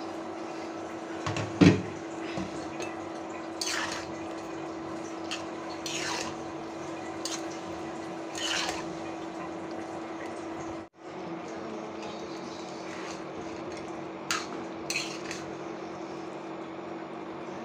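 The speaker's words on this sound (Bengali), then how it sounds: "এখন এ পর্যায়ে দিয়ে দিচ্ছি আলু।" Roughly half a kilo of cut potatoes going into a simmering pot of fish oil and liver curry in a home kitchen, with soft watery bubbling, occasional clatters and knocks, and a brief sharp splash near the start.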